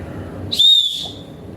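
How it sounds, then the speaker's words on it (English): An Ozark Trail four-function whistle gives one short, piercing, very high-pitched blast of about half a second, loud and close against a low background murmur. "It's a really high pitched whistle."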